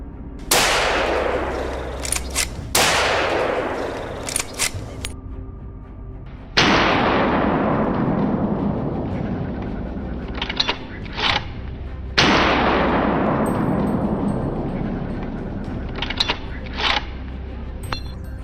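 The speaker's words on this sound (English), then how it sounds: "Diego, one of our hunters, raised his rifle and fired decisively." Rifle shots fired at a wild boar during a hunt: four loud, sharp cracks spaced several seconds apart, each followed by a long rolling echo fading across open ground, with faint rustling and small knocks between them.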